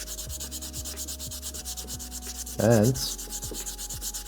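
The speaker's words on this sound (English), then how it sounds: "Just gonna go over it with 1000 grit sandpaper and see if we can get the color back." Fine 1000-grit sandpaper rubbed over a part of an Exakta II camera, close rhythmic back-and-forth scratching strokes at a steady pace, briefly interrupted by a short voice.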